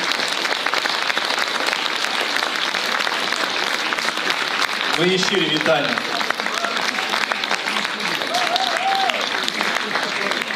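Applause at the Golden Dzyga 2025 national film awards ceremony as the winning film team is called to the stage, steady crowd clapping throughout with a presenter speaking over it.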